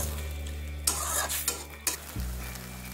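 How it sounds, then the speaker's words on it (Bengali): Ground spices fried on medium flame in a pan for a vegetarian dish, a steady close sizzle with several scraping stirs of the spoon, and no voices. "এবার মিডিয়াম ফ্লেমে রেখে মশলাটা খুব ভালো মতো কষিয়ে নেব।"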